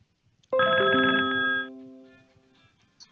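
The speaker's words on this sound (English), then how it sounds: "your phone is ringing" A phone ringtone chimes in a short melodic burst, loud and clear, then fades out with a lingering tail; no one speaks over it.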